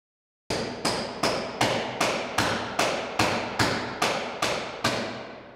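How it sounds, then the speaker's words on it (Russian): Workers hammering on a roof during repair work, twelve loud, evenly spaced metallic blows about half a second apart, each ringing briefly before the next strike, with no voices. "Вот таким грохотом нас встречали рабочие, которые ремонтируют кровлю на МПС-1."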